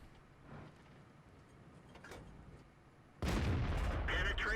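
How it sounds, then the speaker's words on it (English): A tank cannon fires in World of Tanks, a sudden loud blast arriving after faint earlier thumps, its boom and rumble ringing out to the end with no voices. "Two shots in, leaves him on very low health."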